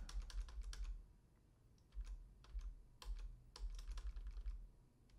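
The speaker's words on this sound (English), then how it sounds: "Tapping enter on the keyboard will jump through the manual where those keywords are" Fingers tapping keys on a computer keyboard in quick, irregular bursts of clicks with brief pauses, close and quiet with no voices.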